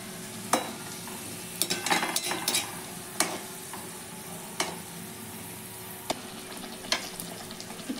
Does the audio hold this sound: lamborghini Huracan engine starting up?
no